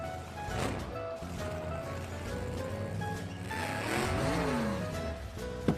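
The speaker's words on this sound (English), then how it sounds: "A tiny little car drove into the ring." A tiny little car drives into a circus ring, a moderately quiet engine putter with whirring, revving tones that swoop up and down midway before a brief knock at the end.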